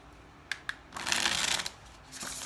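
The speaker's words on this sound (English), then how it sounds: "I have to shuffle the cards here." A deck of tarot cards is riffled and shuffled up close, with a few sharp taps and a brief flurry of fluttering card sounds.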